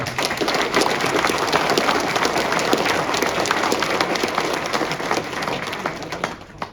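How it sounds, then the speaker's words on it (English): An audience at a conservation fundraising banquet gives sustained applause, with dense, even clapping from a crowded room that holds steady and then fades out at the end. "Let's give them a round of applause."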